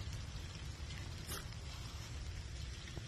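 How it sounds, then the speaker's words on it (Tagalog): Rain falls steadily outdoors as a dense, even hiss with a low rumble underneath, continuous and fairly loud, with no talk. "Ayan, umuulan kasi."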